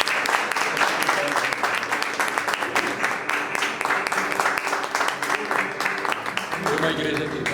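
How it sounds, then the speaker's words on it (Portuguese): A church congregation applauds during a Sunday celebration service, with dense, steady clapping that fills the room for several seconds, mixed with voices and soft musical tones. "Dá uma salva de palmas."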